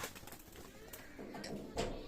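Oman bloodline pigeons coo softly in short low bursts, faint and fairly close, with a few scattered rustles around them and no talking.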